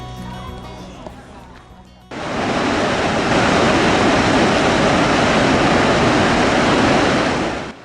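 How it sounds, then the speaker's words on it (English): Gullfoss, a powerful two-tiered waterfall in Iceland, roars as a loud, steady, broadband rush that cuts in abruptly after a quieter opening and then holds unbroken, close and dominant. "This makes it one of the most powerful waterfalls in Europe."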